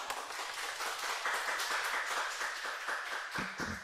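A church congregation claps together in a fairly even, rhythmic beat, the sound moderately faint and continuous with no talk over it.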